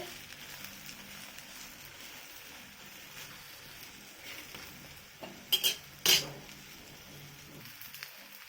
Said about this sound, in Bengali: একদিক ভাজা হয়ে গেছে, আমি উল্টে দিচ্ছি।